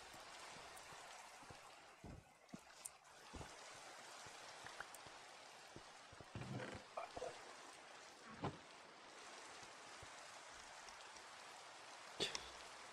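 Rain falls steadily in Minecraft Skyblock, a continuous hiss broken by scattered faint clicks and pops, soft and unbroken throughout.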